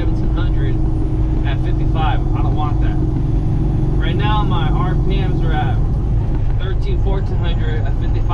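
A Peterbilt 18-wheeler's diesel engine drones steadily and loudly at around 1400 RPM while rolling downhill at 55, a constant low rumble under someone talking throughout.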